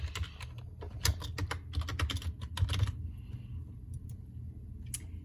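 Rapid keystrokes on a computer keyboard as a name is entered, a dense burst of clicky taps for about three seconds, then a quieter pause with a couple of isolated key presses near the end.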